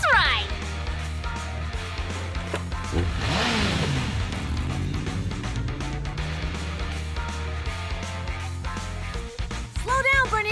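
Engines rev and accelerate over a continuous motorized roar during a race in the video game Zenless Zone Zero, loud and sustained with music and a voice layered on top.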